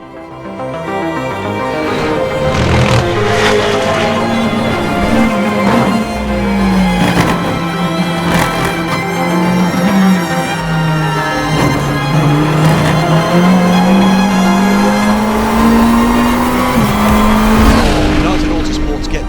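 GT race cars lapping during Le Mans 24 Hours qualifying, engines roaring loud and continuous with pitch rising and falling as they pass, tyres squealing at times, with commentary voices over the top.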